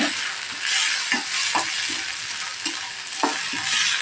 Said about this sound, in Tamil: புதினா கீரை இந்த மாதிரி வதக்கும்போது ரொம்ப நேரம் வதக்க வைக்கக்கூடாது